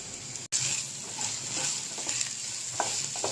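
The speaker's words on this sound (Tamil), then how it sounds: "நல்லா கிண்டி விட்டுக்கோங்க." Sautéed vegetables dusted with pepper powder stirred in a pan, a soft continuous sizzle with light scraping and clinks, fairly quiet and without talk.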